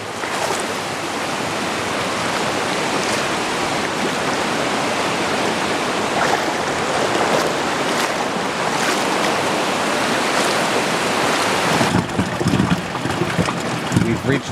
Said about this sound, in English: We've reached the gurgling spring, apparently.